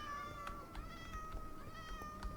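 Two cats meowing inside Minecraft, riding in a boat carried by a minecart; repeated short, fairly faint meows layered over steady game music tones, with no talk.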